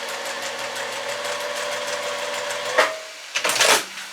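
A sewing machine stitches half square triangle fabric pieces with seam tape, a steady mechanical whir with rapid needle ticks running for nearly three seconds, then stopping with a few soft handling rustles.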